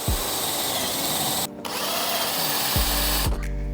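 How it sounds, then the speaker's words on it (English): A power drill whines steadily at close range, drilling out rivets on a flood-damaged BMW M135i xDrive, its pitch dipping briefly as it bites into metal, then revving again. "So when I'm drilling out rivets, I start with a small drill first"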